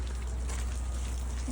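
Rain falls steadily on an icy street in Canada, a continuous close hiss of drops with no break across the short stretch.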